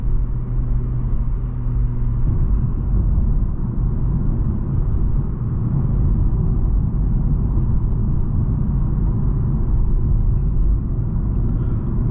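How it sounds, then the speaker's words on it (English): A 2023 BMW M340i sports sedan accelerating on a highway, its engine and road noise giving a deep, steady rumble heard from inside the car, continuous and fairly loud the whole time. "So I want you guys to have a feel for that acceleration."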